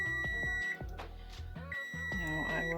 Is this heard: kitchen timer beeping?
yes